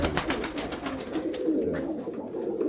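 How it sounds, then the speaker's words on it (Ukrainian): A steel-grey dove perched nearby gives soft, low cooing, a steady murmuring run of calls across the whole stretch with no talk. "ота голубочка, глянь, вона як сіла отам і сидить"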